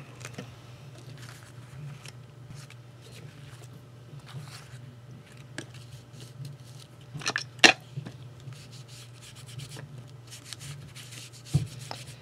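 Light sanding along the edge of a craft piece to distress a napkin-decoupaged finish, heard as soft intermittent rubbing strokes over a steady low hum, with a few sharper scrapes and knocks, fairly close.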